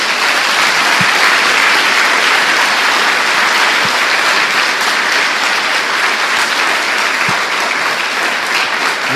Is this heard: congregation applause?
yes